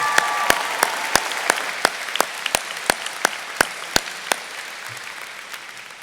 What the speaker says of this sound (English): please give our teachers a big round of applause for all their work this year